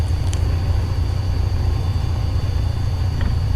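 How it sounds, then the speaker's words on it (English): A Cessna 150 light aircraft engine drones in a steady, continuous low rumble with a constant hiss in a flight simulator, with no break or change in pitch. "I wanna hear the engines."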